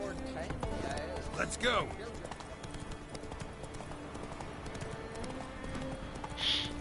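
The horse Roach trots in a video game, with faint rhythmic hoof clops under a voice talking and calling out, plus a brief whinny-like cry near the start.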